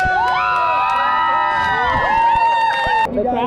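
An outdoor crowd at a rope swing in El Yunque National Forest, Puerto Rico, cheers loudly with rising whoops and high shouting voices layered together, sustained and close until it drops off abruptly near the end.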